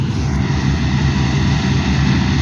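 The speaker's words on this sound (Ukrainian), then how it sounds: "комбайн працює" A combine harvester engine runs steadily while threshing "Omaha" wheat, a loud, continuous low drone with constant mechanical roar and no pauses.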